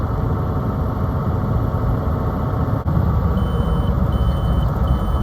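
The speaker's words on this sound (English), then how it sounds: "don't worry about that beeping. That's just my pre-pass telling me I don't have to pull into the scales" Steady truck engine rumble fills the cab on the Cajon Pass downgrade, with a faint, repeated electronic beep from a PrePass transponder chirping a few times near the end.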